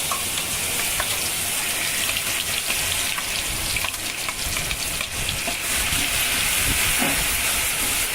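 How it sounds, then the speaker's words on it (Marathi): Garlic and chili paste fry in hot oil with a steady, loud, dense sizzle and crackle, plus occasional soft stirring clicks, no voices. "आता हे मी सगळं साहित्य त्या तेलामध्ये फ्राय करणार आहे."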